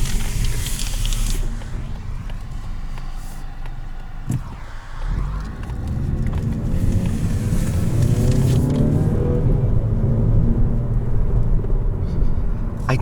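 A 2020 Mazda 3 hatchback's engine hums and rises as it accelerates on the road, heard from inside the cabin with steady tire and road rumble underneath, continuous and moderately loud.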